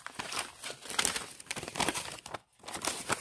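A folding Joker knife slicing through paper, giving steady close crinkling and scraping rasps in repeated strokes with one brief pause and no talking.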